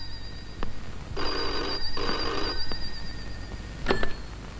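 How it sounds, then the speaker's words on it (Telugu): A telephone rings in two long bursts of bright, steady ringing in a quiet indoor scene, with a few clicks before and a short electronic chirp after. "పాపం ఏదో అర్జెంట్ ఫోన్ కాల్ ఉంది"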